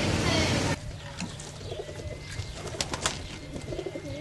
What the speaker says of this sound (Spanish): Echándome con esas palomas, compadre.